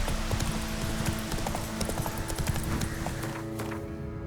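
Hooves of the horse Roach pound in a steady galloping clip-clop in The Witcher 3, with game music and ambience running continuously beneath the rhythm.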